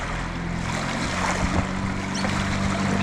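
A motorboat on the Murray River opens up to full throttle, a loud sustained engine roar mixed with rushing water and wind noise, fairly close and steady throughout.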